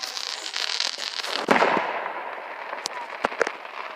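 Fourth of July fireworks going off outdoors: a dense fizzing crackle gives way to a sharp burst, followed by several separate distant pops and bangs spaced irregularly.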